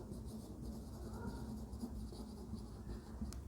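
A pen writes steadily on paper, a faint continuous scratching close by over a low background hum, with no talking.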